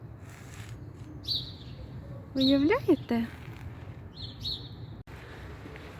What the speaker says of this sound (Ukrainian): Погода класна, пташки співають, сонечко світить.